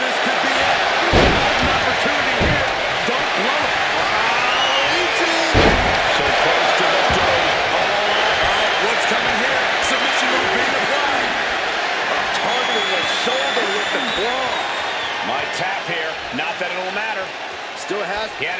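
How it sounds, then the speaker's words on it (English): A wild arena crowd roaring and cheering through a WWE 2K25 ladder match, a dense, continuous wall of noise with a couple of sharp slams, under excited commentary. "The crowd is going absolutely crazy right now."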